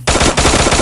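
Rapid automatic gunfire in the battle-royale game Free Fire during a tournament final, a loud continuous burst of shots with no talking.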